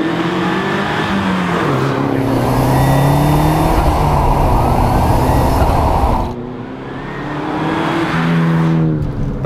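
An Alfa Romeo 155 GTA Stradale, a one-off road car, drives through Turin, its engine loud and close as it climbs and falls through the gears, with a sharp lift-off and a fresh pull near the end.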